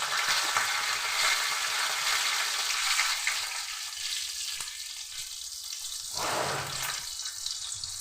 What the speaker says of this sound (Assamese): চাটনি কাৰণে নহৰু জলকীয়াখিনি ভাজি লওঁ